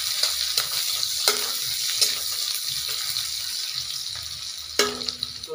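Onions fry in a hot pan over a village cooking fire, giving a steady close sizzle with sharp stirring scrapes and knocks throughout, no voices.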